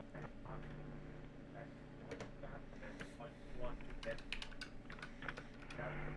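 Typing on a computer keyboard while entering a password, quick irregular clicks and taps that grow busier toward the end, faint and close, with a low hum beneath.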